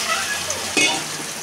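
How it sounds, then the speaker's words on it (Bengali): Water poured into a hot pan of fried garlic and ginger sends up a brief burst of loud sizzling and spitting that settles into a steady frying hiss, close by. "তো এখন পানি দিয়ে দিব।"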